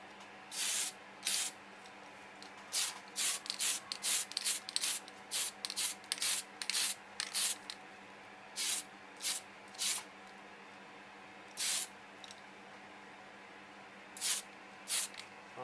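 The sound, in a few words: spraying a dull coat onto a model car kit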